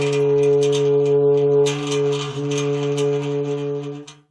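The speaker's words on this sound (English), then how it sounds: "dry ice against a piece of much hotter metal" Dry ice pressed against a piece of much hotter metal gives off a sustained, eerie whining tone with steady harmonics and a slight wobble, ringing continuously for several seconds before cutting off.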